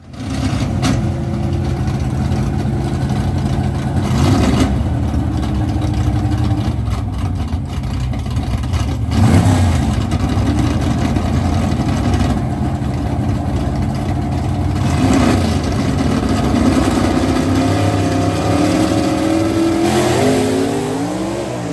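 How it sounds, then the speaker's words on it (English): Two C/Gas gasser drag cars launching and accelerating side by side down the Kil-Kare Dragway, a loud continuous engine roar with gear-change dips and rising pitch that stays heavy throughout, with no talk. "We got a good looking C-Gas final coming up as these two cars just went."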